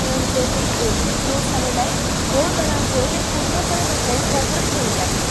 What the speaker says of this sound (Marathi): घोड नदीपात्रातून 4000 क्युसेकने पाण्याचा विसर्ग सुरू आहे।